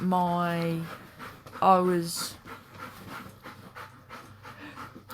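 A dog pants rapidly in two bursts close by, followed by quieter breathy rustling and faint background sounds.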